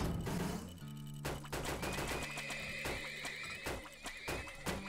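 Horses neigh and whinny in the Turmoil strategy game, a harmonic call heard early among busy game sound effects, sharp repeated clicks and a thin whistling tone, all fairly faint.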